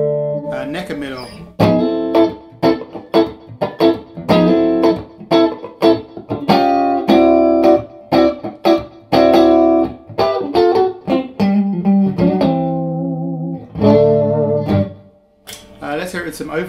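Double-cut Danocaster electric guitar on the neck and middle pickup setting, strummed in choppy rhythmic bursts of chords with short gaps between them, loud and close, with a few fuller sustained strums near the end.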